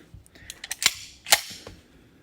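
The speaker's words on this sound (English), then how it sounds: "safe check the pistol" Pistol handled during a safety check: a quick series of sharp metallic clicks and snaps as the slide and empty magazine are worked, close and crisp in a quiet room.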